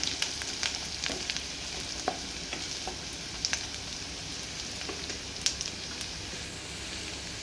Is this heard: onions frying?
yes